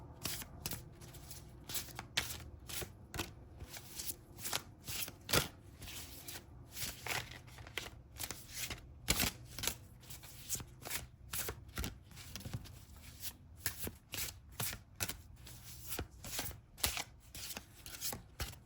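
Tarot cards are shuffled by hand in a long run of quick, crisp riffles and slaps, close and fairly quiet, repeating in uneven bursts with no talking.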